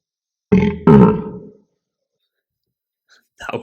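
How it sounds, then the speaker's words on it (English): A woman makes a sudden, odd burp-like hiccup, two close voiced bursts near the mic, then silence and a faint stir at the end. "That was like a burp / hiccup. It was a hiccup."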